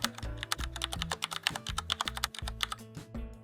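Fast, close clicking of keys on a computer keyboard as a short text prompt is typed, with a dense run of crisp taps and a few heavier strokes.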